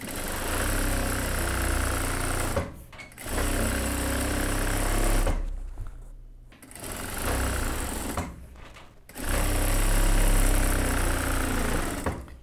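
Sewing machine stitching along the edge of a boiled-wool coat, a loud steady motor hum and rapid needle chatter in long runs broken by several short pauses, close and alone without speech.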